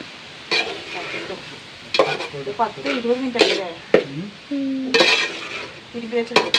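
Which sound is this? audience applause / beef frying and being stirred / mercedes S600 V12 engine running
beef frying and being stirred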